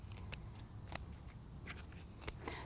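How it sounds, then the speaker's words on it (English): Garden scissors snip repeatedly while pruning branches outdoors, with several sharp, close clicks spaced irregularly over a soft outdoor background. "just with my scissors, I'm coming out here and I am reestablishing the form"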